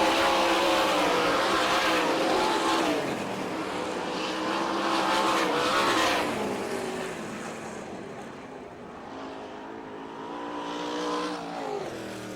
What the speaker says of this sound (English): Terry Pletch trying to hold off Billy Pouch to take that checkered flag